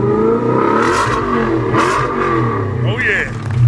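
A Dodge Charger engine, tuned with a Badger tuner mod, revs hard and loud up close, pitch climbing and falling in sweeping surges, with a voice briefly over the engine roar.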